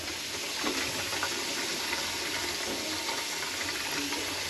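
Water runs steadily from a newly installed bathroom faucet into the sink and drains, a constant close hiss and splash with no talk.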